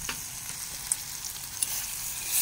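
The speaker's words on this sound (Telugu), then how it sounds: "అలా మిక్స్ చేయాలి అల్లం బాగా వేగే వరకు" Ginger frying in a pan while being stirred, a steady hiss of oil with a few faint scraping knocks, building slightly louder toward the end.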